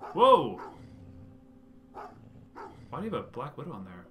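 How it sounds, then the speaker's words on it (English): A dog in Goosebumps: The Game lets out a loud, close bark right at the start, followed by someone talking over quieter game sounds. "That dog attacked as soon as you enter your neighborhood."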